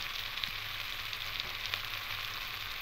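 Turmeric, salt and Kashmiri chilli powder stirred into hot oil in a pan, heard as a soft, even sizzle with faint scraping, quiet and steady for the whole stretch.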